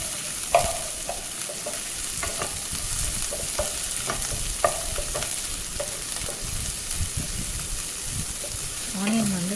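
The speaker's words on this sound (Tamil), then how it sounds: "அப்புறம் ஒரு பெரிய வெங்காயம் வந்து ஆட் பண்ணிக்கோங்க. இது நல்லா வதக்கி கொடுங்க." A large onion sautéing in a pan for Indian broad beans stir fry, a steady sizzle with repeated scraping stirs of a spatula, close and continuous, with a brief rattle near the end.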